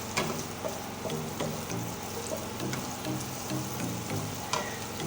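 Onions fry in a pan with garam masala and cumin while being stirred for a yellow tahari rice, giving a steady, close, dense sizzle with small scraping accents and no talking.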